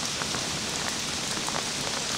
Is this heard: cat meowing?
no